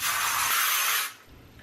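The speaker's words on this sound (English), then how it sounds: "All right, I think I'm going to spray it." Amika finishing spray aerosol misted onto hair, one sustained close hiss lasting about a second before cutting off abruptly.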